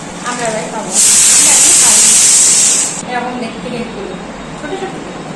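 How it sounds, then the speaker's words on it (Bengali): A pressure cooker whistles as it vents steam in a home kitchen, one loud steady hiss lasting about two seconds, with people chatting before and after. "প্রেসার কুকার সিটি পড়ছে"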